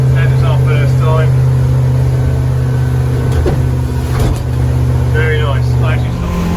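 A small fishing boat on its first sea trial runs at speed with a steady, loud engine drone throughout. People talk now and then over the motor.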